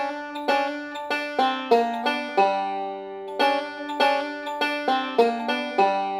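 A banjo plays a quick lick of plucked notes with pinched double-stops and a sliding note, bright and close, with a steady rhythmic pulse and no talking.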